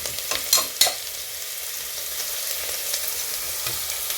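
Onions fry and are stirred in a pan, a steady close sizzle with a couple of scraping clinks of the utensil near the start, and no voices.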